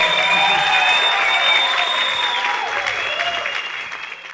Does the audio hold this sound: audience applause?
yes